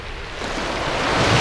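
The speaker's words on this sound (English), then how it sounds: "I'm going to sit here and listen to the waves" Ocean surf breaking on the shore at Langley Point, Eastbourne, heard as a steady broadband wash that swells slightly toward the end, with some wind on the microphone and no speech.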